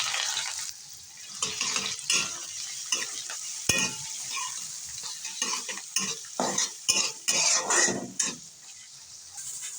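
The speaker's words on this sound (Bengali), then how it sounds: "এখন আমি রসুন কুচি, কাঁচা ঝাল কুচি, পেঁয়াজ কুচি দিয়ে দেব" Chopped garlic, green chili and onion sizzle and fry in a pan while being stirred, with steady crackling and repeated scraping stirs close by, no talking.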